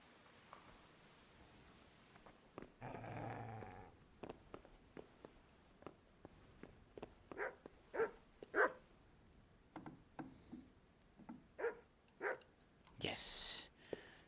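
A dog barks in the medieval video game Kingdom Come: Deliverance, several short, moderately loud barks and yips scattered over a quiet scene with footsteps and a few bursts of noise.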